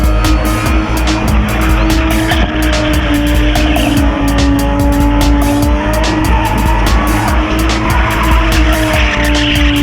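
A BMW E30 spins at a spinning event, its engine roaring at high revs while the tires squeal continuously, loud and close, a dense unbroken blast with a crowd faintly present.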